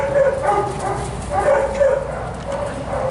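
Lively dog playing on an open sand field gives repeated yipping barks in bursts, with people talking nearby.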